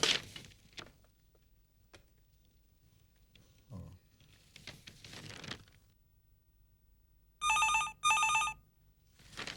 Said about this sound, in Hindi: तुम्हारा फोन है बेटा।